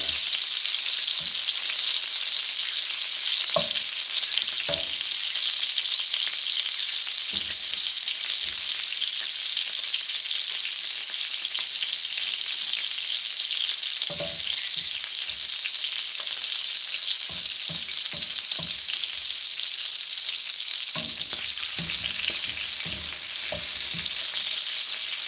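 Longganisa sausage frying in a pan for a home breakfast gives a steady, crackling sizzle throughout, with scattered soft clicks and scrapes of a utensil moving the links, and no talking.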